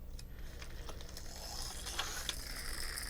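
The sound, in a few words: sprocket mechanism in a TOMY stunt car race set clicking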